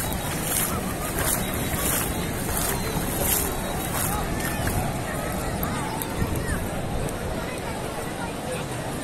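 Sea waves at Cox's Bazar beach churn in a steady broadband wash under a crowded shoreline, with wind and voices talking throughout.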